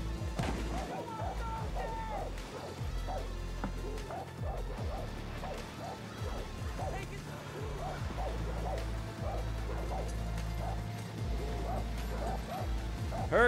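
Dogs bark and yip repeatedly in the video game Far Cry New Dawn, a dense run of barks and whimpers over a low droning backdrop, continuing through most of the scene.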